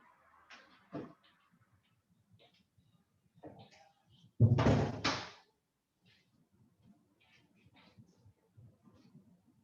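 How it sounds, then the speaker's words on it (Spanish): A door is pushed closed indoors during a home video call, giving one loud bang with a short rattle, set among soft movement noises and otherwise quiet room tone. "voy a cerrar una puerta, porque se debe escuchar"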